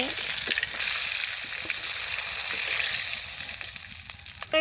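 Fish frying lightly in a pan, a steady close sizzle of hot oil running throughout with small pops and crackles and no talking.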